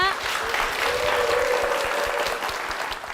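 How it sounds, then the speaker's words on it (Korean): Church congregation at a Korean church service gives a big round of applause, a steady dense clapping that swells and holds throughout, with a voice speaking faintly over it. "천미자 집사님 큰 박수로 무대로 모시겠습니다"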